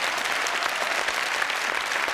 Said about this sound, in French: Applaudissements, même, messieurs.